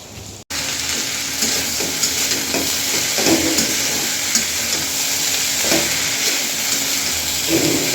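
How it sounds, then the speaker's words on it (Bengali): Eggplant is sautéed and stirred in a hot pan for a curry, giving a steady, loud sizzle with repeated scraping stirs throughout and no voices. "বেগুনটা ভালো করে কষিয়ে নিয়ে"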